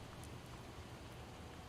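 Steady, soft rain falling in the zombie survival game Project Zomboid, a faint continuous hiss with no talk over it.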